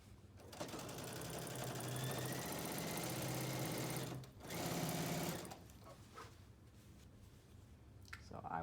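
A sewing machine stitches a quilt near the end of a seam, running in a fast steady hum, pausing briefly, then resuming before it stops and leaves quiet handling sounds.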